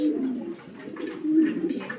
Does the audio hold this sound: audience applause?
no